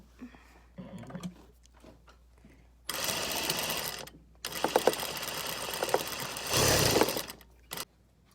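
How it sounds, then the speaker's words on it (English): A sewing machine stitches the sleeve seam of an isolation gown made from a bed sheet, running in several loud bursts of steady whirring and rattling needle action separated by pauses, with some faint handling noise before it starts. "So we have everything pinned, and just gonna sew this up."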